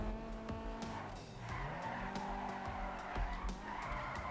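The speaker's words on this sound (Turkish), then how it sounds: "Arabayı kaydırıyor, frenlerine bakıyor, değişik hareketler yapıyor." A car in the video game GTA 5 skids and brakes during handling tests, with repeated tire squeals and sliding screeches over a running engine and a few sharp clicks, all fairly close and without talk.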